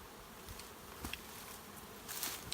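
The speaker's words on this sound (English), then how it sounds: "I thought this hive was swarming." Honey bees buzz around beehives in an outdoor beeyard, a continuous soft drone with individual bees passing close by now and then; faint overall and no talking.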